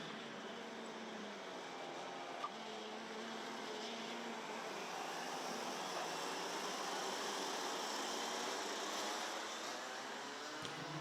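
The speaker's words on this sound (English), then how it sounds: "The revs start to build." Racing kart engines, DD2 Masters class, building revs during a rolling start at a British kart circuit; a dense, steady buzzing drone from a pack of karts, fairly distant and continuous without talk.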